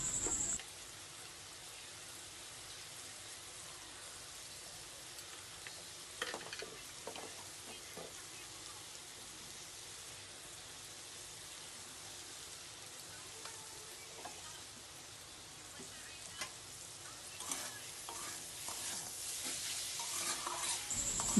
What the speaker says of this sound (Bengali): ভালো করে এইটাকে নাড়তে হবে।